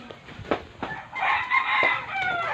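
A rooster crows once, close and loud, its drawn-out call following a few short clucks and scratchy farmyard noises.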